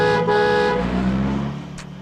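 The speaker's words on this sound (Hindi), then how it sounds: "सामने से कोई भी गाड़ी आए तो हॉर्न बजाना।" A car horn sounds a loud, steady blast for most of a second, then gives way to a vehicle engine rumbling close by that fades slowly.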